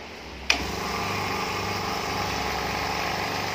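A cheap oilless air compressor starts with a sharp click and then runs at a steady, fairly quiet motor hum, close by and unbroken, with no talking.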